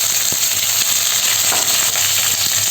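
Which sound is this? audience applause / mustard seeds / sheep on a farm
mustard seeds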